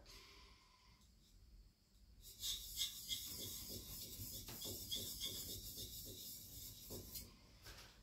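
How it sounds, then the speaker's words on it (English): A plane iron is rubbed on a 1000 grit sharpening stone to take off the burr, quiet at first, then a close, rhythmic gritty rasping of steel strokes over the stone. "I'm going to take the burr off."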